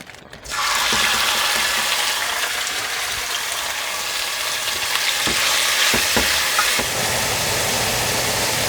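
Beef hitting olive oil in a hot pot on a stove set to high, a loud sudden sizzle bursting in after a brief quiet start and then holding as a steady close hiss with a few stirring clicks.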